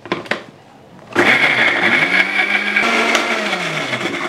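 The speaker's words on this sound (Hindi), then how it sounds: "और इसको ग्राइंड करेंगे" A blender grinds green chutney made with salt and a little water, a loud steady whirring drone that starts abruptly after a moment of quiet and runs continuously to the end.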